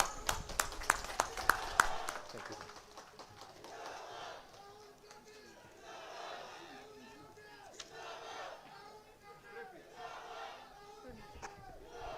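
At Rahul Gandhi's public meeting at Hapta Kangjeibung in Imphal, a large outdoor crowd cheers and shouts, opening with a burst of sharp claps and bangs, then a sustained rolling roar of voices at moderate distance.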